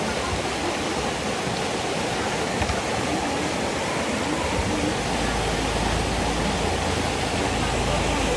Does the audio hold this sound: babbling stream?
yes